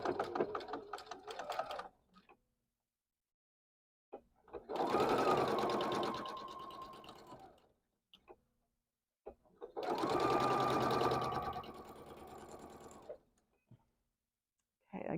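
A sewing machine stitches a quilt block seam in bursts, with a short run and then two longer steady whirring runs separated by silent pauses.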